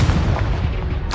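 The Confringo blasting curse from Hogwarts Legacy goes off as a single short, heavy boom with a deep rumbling body, loud and close, ending in a brief crackling burst.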